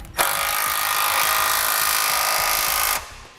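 A power tool tightens hardware on a Roadmaster Direct-Connect base plate kit in one continuous loud whirring burst of about three seconds, starting and stopping abruptly.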